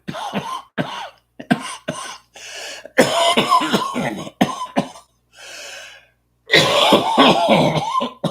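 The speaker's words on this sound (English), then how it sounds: "That's a lot of coughing." A run of harsh, repeated coughs in bursts, some single and some in rapid clusters, loud and close with brief pauses between fits.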